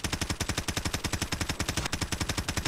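A PP19 submachine gun in a video game fires in one unbroken fast burst, each shot rapid and evenly spaced, loud and close, with no talking.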